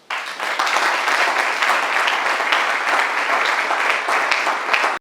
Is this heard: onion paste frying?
no